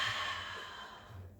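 A soft, quiet exhale and breath during a pilates mat exercise, a single faint sigh-like breath fading out near the end.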